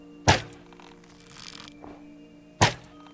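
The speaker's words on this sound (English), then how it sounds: "he's shooting over the snow" Crossbow arrows from a pillager in the Minecraft video game land as two sharp, solid thunks about two seconds apart, with a faint softer tap between them and no voices.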